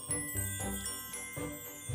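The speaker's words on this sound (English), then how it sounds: "That was the sound of the magic story drawer." A short magical chime for a story drawer rings out in a quick tinkling run of bright, shimmering tones, close and clear with no talking over it.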